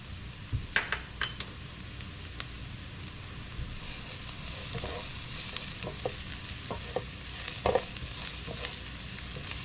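Fresh garlic frying in a pan, a steady soft sizzle broken by scattered clinks and scrapes of stirring against the cookware, with no talking.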